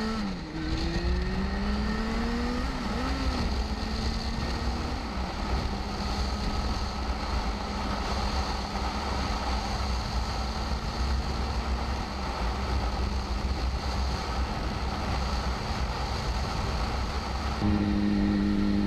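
A Yamaha FZ6 sport motorcycle engine heard while riding, a steady muted drone with rising and falling pitch as the rider shifts and accelerates, mixed with wind rush for nearly twenty seconds.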